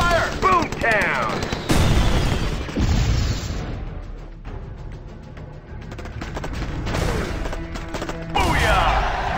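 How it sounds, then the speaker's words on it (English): Enemy gunfire in the mobile strategy game Empires and Allies: loud, dense volleys of shots and booms come in waves, fading in the middle and building again toward the end. "Enemy fire!"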